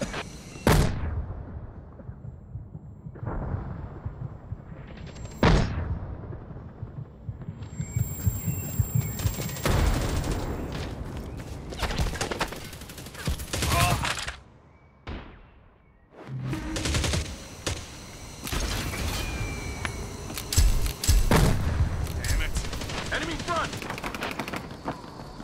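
Mortar blasts and heavy gunfire from the military shooter Hired Ops, with sharp loud bursts and sustained rattling volleys repeating across the stretch, dense and close, under in-game radio voices.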